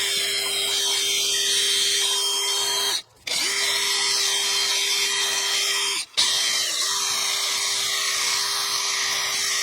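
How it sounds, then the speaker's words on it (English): A drill spinning a small wire wheel to scrub rust off a Mazda 3 front strut bolt, a loud steady high whine with a scratchy hiss that stops briefly twice and then resumes. "I'm just going to use a small little wire wheel on a drill to clean off this rust"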